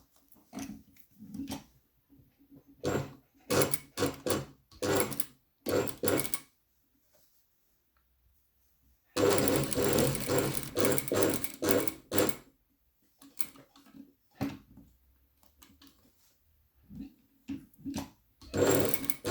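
Sewing machine stitching the pieces of a tailored collar from corner to corner, in repeated short bursts of whirring stitches separated by pauses, with one longer steady run midway, near and fairly loud, with someone speaking French between runs.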